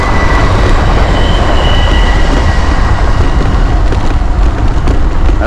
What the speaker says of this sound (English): sorry for the wind noise troops and the squeaking of the brakes